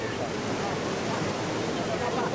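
Large ocean waves roll and crash at Drini beach in Yogyakarta, a loud, continuous roar of surf with wind noise and no break across the moment.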